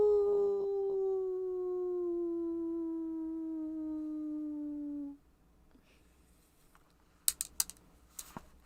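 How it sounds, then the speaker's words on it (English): A long, drawn-out dog howl holds steady, then slides slowly downward for about five seconds before breaking off. Quiet follows, broken only by a few faint clicks and taps. "Have you heard dogs howl?"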